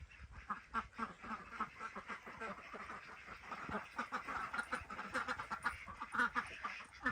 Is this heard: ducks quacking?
yes